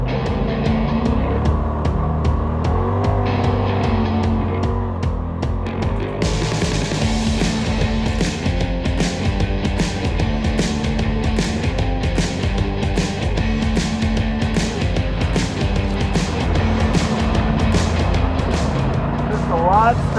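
A Polaris RZR off-road vehicle drives in four-wheel drive on firm suspension setting, its engine droning loudly and steadily with rising and falling revs and pulsing rhythm throughout, close by.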